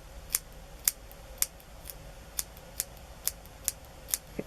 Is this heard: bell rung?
no